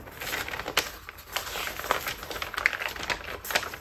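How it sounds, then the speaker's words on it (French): Stiff painted paper crinkles and crackles in short, irregular bursts close by, with sharp little snaps scattered across a constant hiss. "j'adore le bruit du papier une fois qu'il est peint."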